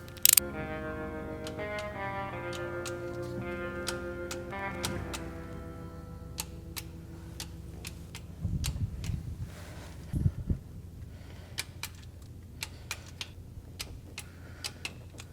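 A torque wrench tightens bolts on a Toyota 2UZ-FE V8 during timing belt and water pump work, giving sharp metallic clicks and ratchet ticks, sparse and irregular, with a louder rattling burst midway and a droning tone early on.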